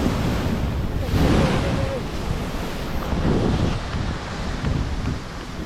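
Rough sea surf pounds against an eroding coastline where homes are being lost to the sea, a continuous loud wash of breaking waves mixed with gusty wind buffeting the microphone, with no talking.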